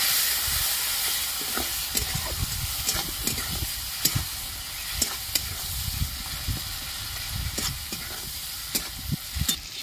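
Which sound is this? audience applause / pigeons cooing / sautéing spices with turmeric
sautéing spices with turmeric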